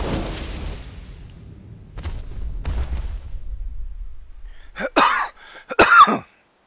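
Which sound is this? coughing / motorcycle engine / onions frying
coughing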